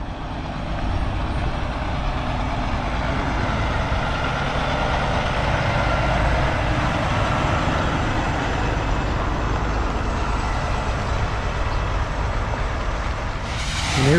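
A Kenworth W900L truck pulling a dump trailer rumbles past with a steady, loud diesel drone and broad road roar that holds for the whole stretch, without any voices over it.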